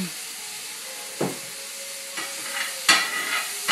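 Pancetta with pepper being stirred in a hot pan, a soft constant sizzle broken by a few scraping strokes of the utensil across the pan, close up, without talk.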